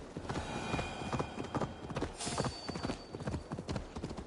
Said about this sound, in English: this horse is dumb as hell